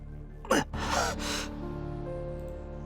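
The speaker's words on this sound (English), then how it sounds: "I let out a gasp." A character in the Fate Stay Night visual novel lets out one sharp gasp followed by a long, shaky exhale over a steady held musical tone.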